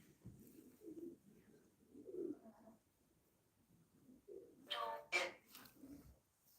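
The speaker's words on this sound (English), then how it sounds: "Can you scare the pigeons off?" Pigeons coo softly in low, repeated, throaty phrases, close but quiet, with a brief sharper noise breaking in near the end.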